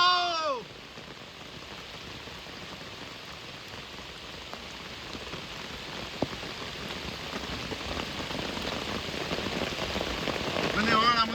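Heavy rain pours steadily at the Hirve Kurd waterfalls, a dense, even hiss that swells louder toward the end, with a brief voice at the start.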